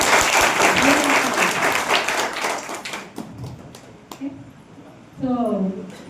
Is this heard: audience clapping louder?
yes